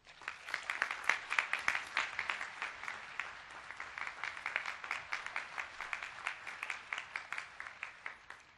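A Harvard Business School MBA class gives sustained audience applause welcoming healthcare entrepreneur Kathy Giusti to the stage: dense, steady clapping from a crowd, moderately loud and even throughout, with no talk over it.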